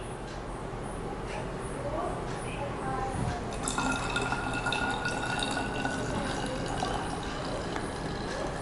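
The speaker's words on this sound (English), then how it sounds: "So as I am pouring water, it looks like it's mixing, but it is not." Water is poured onto layers of honey and dish soap in a glass, a steady trickling fill heard under a voice talking throughout.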